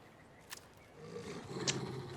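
A wolf growling in the video game Alan Wake II, a low, rough snarl that swells after a quiet start and rumbles on fairly close.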